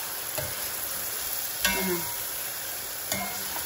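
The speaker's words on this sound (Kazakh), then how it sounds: "Әбден етті қызарғанша қуырып," Meat for a Thai-style dish frying until browned in a pan, a steady close sizzle broken by a few sharp spatula scrapes and clicks against the pan, no voices.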